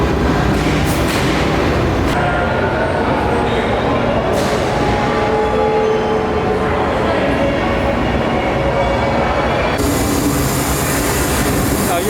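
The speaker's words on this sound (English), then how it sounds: "the train arrives from behind me and then takes back off in that direction as well" Theme park train pulling into the platform at Universal Studios Diagon Alley, a loud rumbling rail roar with squealing and hissing tones, near and continuous, with crowd murmur around it.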